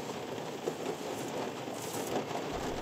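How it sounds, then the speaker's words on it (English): Rain falls outside a tiny campervan at night, a steady dense hiss and patter on the roof and surroundings that continues evenly throughout with no voices. "it's raining beans and cheese out there"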